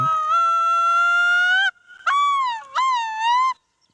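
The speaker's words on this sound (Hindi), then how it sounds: "लून एक अद्भुत जल पक्षी है जो अपनी अनोखी और गूंजती हुई आवाज़ के लिए जाना जाता है।" A long, rising wail of a loon rings out alone, followed by two shorter wavering, yodel-like calls in a quiet setting.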